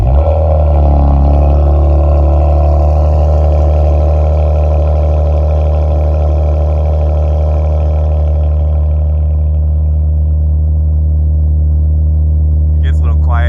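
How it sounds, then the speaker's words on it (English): A 2019 Ford Edge ST with turbos starts up, its engine catching with a rough burst before settling into a loud, steady, deep exhaust idle that drones on close by. "So I'm gonna give it a little startup here, let it warm up, and then I'll show you guys how the exhaust sounds"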